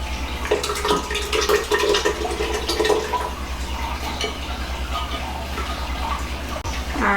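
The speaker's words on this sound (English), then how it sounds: "I just poured in the French onion soup." French onion soup being poured into an Instant Pot, a steady liquid splash and gurgle lasting several seconds with a low hum underneath.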